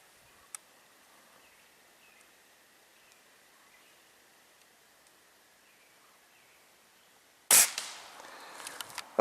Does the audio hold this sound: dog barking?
no